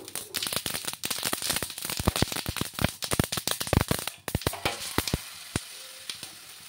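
Oil in a pan, with fresh batter poured in, sizzles and spits in dense, loud crackling bursts with sharp individual pops, thinning toward the end.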